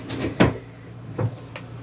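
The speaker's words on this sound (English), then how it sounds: "Close my drawers." Drawers being closed during a morning routine, two soft, close thuds with faint rattles, about a second apart, in a quiet room.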